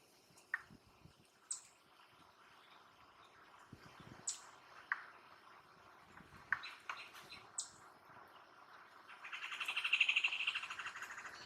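A red-bellied woodpecker calls in woodland, giving scattered short, sharp calls with a few taps and rustles in a quiet outdoor setting, and a busier burst of higher chirping comes near the end.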